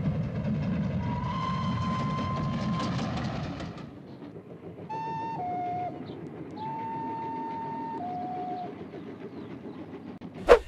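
A GWR 14xx steam locomotive sounding its two whistles, with long steady tones blown several times over a train's rumble and clatter that drop away partway through.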